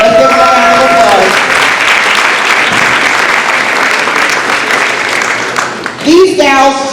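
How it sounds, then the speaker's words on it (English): Audience applause fills a high school Educator of the Year ceremony, a steady broad wash of clapping that holds loud for about six seconds, then tapers as a speaker's voice returns at the end. "Let's give them a round of applause."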